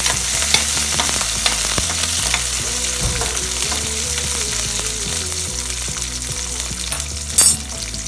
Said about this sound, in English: Now saute this once.